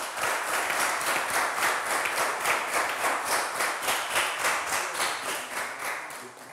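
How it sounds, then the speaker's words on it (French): A studio audience at a French quiz game show gives steady, even applause to the contestants, a dense pulsing wash of many hands clapping throughout with no talking. "Est-ce qu'on peut les applaudir?"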